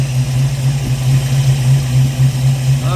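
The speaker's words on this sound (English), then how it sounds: "It's holding a pretty good idle." Ford Mustang V8 engine idling on a QFT Slayer 750 carburetor, a loud, steady low rumble close by with a slightly uneven pulse and no talking.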